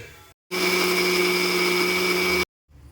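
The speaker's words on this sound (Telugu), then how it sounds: "టమాటాలని ముక్కలుగా చేసుకుని మిక్సీ జార్లోకి ట్రాన్స్ఫర్ చేసుకున్న తర్వాత మిక్సీ చేసుకోవాలి" A mixer grinder whirs loudly for about two seconds, blending tomato pieces with salt for tomato dosa batter, starting and stopping abruptly with a steady high motor whine between brief pauses.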